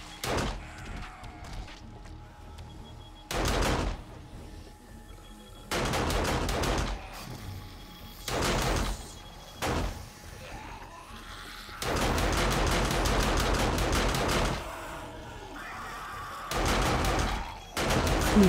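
Loud bursts of automatic gunfire in the survival game 7 Days to Die, coming in repeated volleys of varying length separated by quieter pauses, the longest burst near the end.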